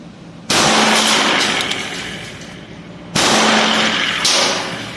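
Two loud, sharp shots from a Smith & Wesson M10-5 .38 revolver with a 4-inch barrel being test fired, a few seconds apart, each followed by a decaying echo, close and with no talk.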